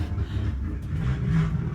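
A passing car with a rough, poorly running engine rumbles low and steady for a moment, swelling slightly as it goes by at moderate distance.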